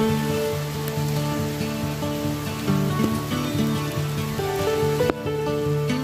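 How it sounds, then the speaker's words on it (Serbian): Steady rain patters outdoors on a farm while the sun is out, making a continuous, even wash of drops. A low tonal hum runs underneath, and a sharp knock sounds near the end. "Sunce grije, a kiša pada."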